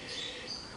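Faint high-pitched bird chirps come from outdoors, soft and distant over a quiet background hiss.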